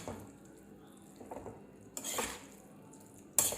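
Breadfruit upma being stirred in a pot: quiet scraping and soft clinks of a spoon against metal, with a brief louder clatter near the end.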